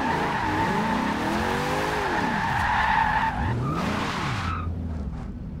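Car drifting in the racing game Forza Horizon 2, with loud sustained tire squeal and skidding over a revving engine that bends in pitch, then the squeal fades out near the end.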